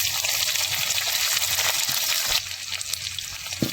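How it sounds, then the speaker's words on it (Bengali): Half a large sliced onion frying in hot oil in a pan while cooking a chicken curry, a loud, close, steady sizzle with occasional stirring clatters. "সেটা এখন ভেজে নেবো হালকা করে ব্রাউন করে।"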